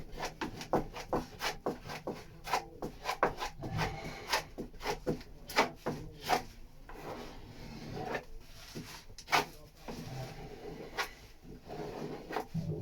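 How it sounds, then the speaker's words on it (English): Filler being scraped into voids, low spots and corners before glassing, heard as a series of soft, close scraping and tapping strokes at an irregular pace, quiet overall. "Literally a scraping, putting it on and taking it off again really, and it will just cover in any low spots in these corners"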